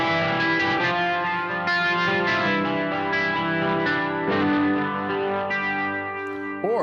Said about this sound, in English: I want to add a distortion effect,